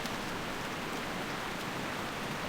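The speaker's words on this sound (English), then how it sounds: "It's pissing down with rain." Steady heavy rain falls in the World of Warcraft Vanilla game world, a constant soft hiss of downpour heard alone at moderate level with no speech.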